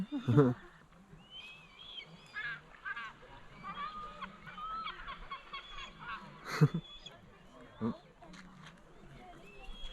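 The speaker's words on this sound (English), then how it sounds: "Look at the poor ducks." Ducks quack and honk at a moderate distance among other waterfowl, with scattered splashes and sharper calls standing out against a busy outdoor background.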